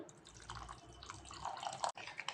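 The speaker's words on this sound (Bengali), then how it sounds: "অল্প দিচ্ছি জল" A little water trickles and drips into a thick breakfast batter in a bowl, with a short close splashing pour and soft liquid sounds.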